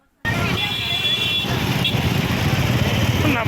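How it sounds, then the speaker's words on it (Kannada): Motorcycle engines rumble up close and steady in a women's bike rally through Kalaburagi streets, with riders wearing Ilkal saris, a continuous dense engine drone starting abruptly and holding for several seconds. "ಜಗತ್ ವೃತ್ತದ ಬಸವೇಶ್ವರರ ಮೂರ್ತಿಯವರೆಗೆ ಅದ್ದೂರಿಯಾಗಿ ಬೈಕ್ ರ್ಯಾಲಿ ಮಾಡಿದರು."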